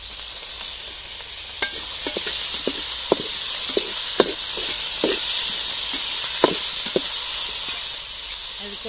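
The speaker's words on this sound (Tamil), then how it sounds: "இப்போ தக்காளியும் சேர்த்துக்கிறேன்." Tomatoes go into a pan of sizzling stone-ground ginger and garlic for a country chicken rasam, giving a steady close frying hiss broken by scattered sharp spatters and spoon scrapes against the pan.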